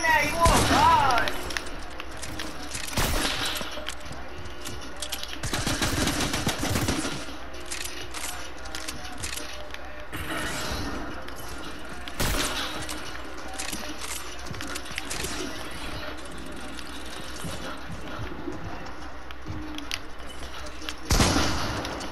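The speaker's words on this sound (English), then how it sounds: "What are you shooting at?" Gunfire in Fortnite: scattered sharp shots and short bursts over about twenty seconds, loud near the start and end and sparser in between, with a voice talking at times.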